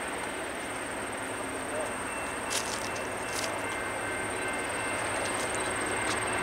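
BNSF and CP freight train rolling past at Duplainville, Wisconsin, a steady rumble of rail cars with faint wheel squeals, heard from trackside.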